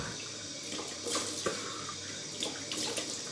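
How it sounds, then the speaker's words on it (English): Cold tap water runs steadily into a sink for face washing, a soft continuous splashing with a few louder splashes as hands cup the stream, close and fairly quiet with no talking. "I gotta put some cold water on my face to wash this off"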